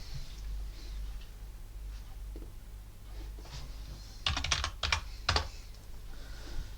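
Fingers typing on a computer keyboard at a terminal, a run of soft, quiet key taps that ends in a short burst of sharper, louder clicks, with no talk.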